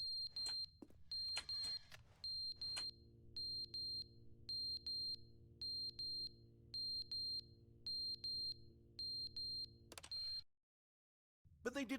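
Fire alarm in The Stanley Parable: Ultra Deluxe video game, a shrill electronic beeping in regular repeated bursts over a low steady hum, fairly quiet, cutting off abruptly near the end.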